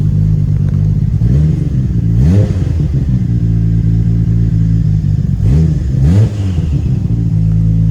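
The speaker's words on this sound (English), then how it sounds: "You can hear the turbo spooling." A Nissan Skyline R34 GT-R V-Spec with a turbocharged engine, loud and close, idles with a deep throb and revs sharply twice, each rev rising and falling quickly as the turbo spools.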